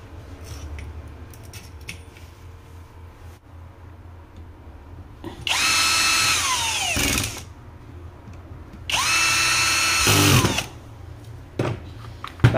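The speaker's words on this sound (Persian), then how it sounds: "در مورد پیچ کردم با دستگاه شارژی هم که گفتم توی ویدئوی قبل، همیشه اینا روی حالت تورکمت تنظیم کنید" A cordless drill drives screws into a DCA 125B long-handle mini angle grinder, giving two loud, close bursts of high motor whine, each about a second and a half long, separated by quieter handling noise.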